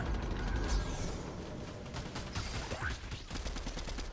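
Rapid gunfire from the Fortnite video game rattles in quick repeated bursts, fairly faint and mechanical-sounding, with clicks and shots scattered across a few seconds.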